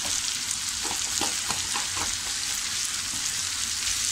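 Egg bhurji with mixed masala and turmeric sizzles steadily in a pan, with soft scraping stirs clustered near the start over continuous frying hiss; no voices.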